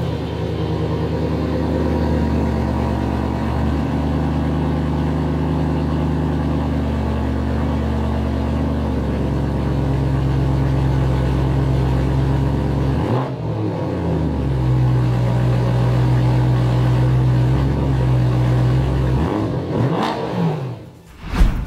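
A BMW E90 car engine runs steadily at idle with a low, even hum, then revs briefly near the end; close and continuous, with no talking.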